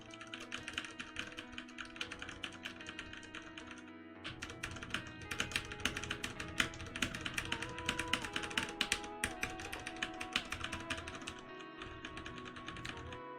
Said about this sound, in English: That's some good typing, guys.